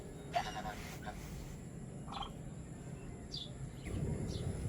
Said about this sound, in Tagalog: Pati na yung pabo.